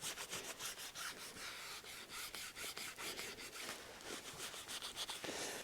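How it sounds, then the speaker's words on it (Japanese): Cloth buffs leather spectator shoes after the wax has been melted in with an iron, giving a steady, quiet rubbing scrape of rapid back-and-forth strokes with no pauses. "ローをねアイロンで溶かしたので布で磨いていきます。"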